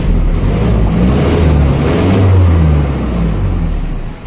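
Turbo diesel engine of a Toyota Hilux pickup revving hard and close, a loud sustained roar whose pitch climbs and dips before easing off at the end, with no talk.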